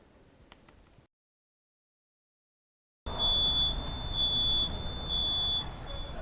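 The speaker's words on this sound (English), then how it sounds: "It's eerily quiet on this street, besides the sound of fire alarms." A fire alarm sounds on a quiet residential street. Near silence gives way to a loud, continuous high-pitched electronic tone that keeps sounding steadily.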